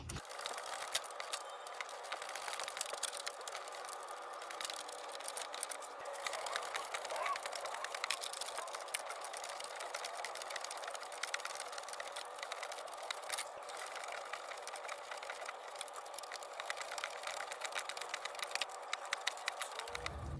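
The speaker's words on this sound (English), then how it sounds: "it's time to just tighten them up with the ratchet" A ratchet tightens the front sway bar bracket bolts on a Chevy Equinox/GMC Terrain, giving a fast, continuous stream of metallic clicks that runs steadily for the whole stretch with no talking.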